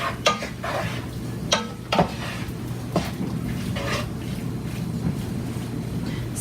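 A spoon stirs beef curry in a pot, giving a few sharp clinks and scrapes against the metal over a steady low kitchen hum, close and moderately loud.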